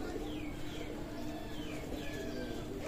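Chinese Kamagar pigeons coo softly at close range, low repeated calls over a constant background hum, with faint chirps mixed in.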